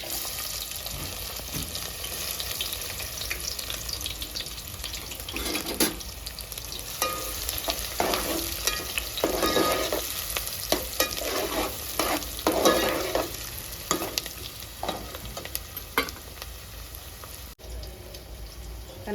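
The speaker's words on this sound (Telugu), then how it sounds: "కట్ చేసి పెట్టుకున్న ఉల్లిగడ్డ వేస్తుండా అండి" Chopped onions sizzle in hot oil for a goat head curry, a steady crackling fry broken by repeated scraping stirs of a spoon in the pan, close and continuous.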